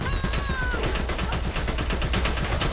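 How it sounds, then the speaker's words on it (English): Rapid bursts of gunfire fill a shooter video game match, dense repeated shots in a steady rattling rhythm close by, with a brief tonal whine early on. "All that shooting and everything."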